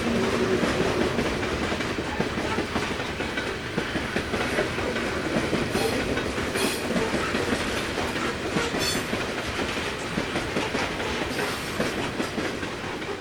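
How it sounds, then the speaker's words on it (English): A heavily loaded coal train of about 22,000 tons, losing speed on a curved grade, rumbles steadily past at close range, with a continuous low roar, rhythmic wheel clatter and occasional faint metallic squeals. "train is very heavy and is losing speed quite quickly"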